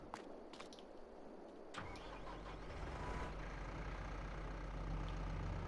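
A tractor engine in the video game Farming Simulator 22 cranks and catches partway through, then settles into a steady, moderately loud idle, with no talking.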